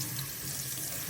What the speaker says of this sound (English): Now rinse my meat off really good.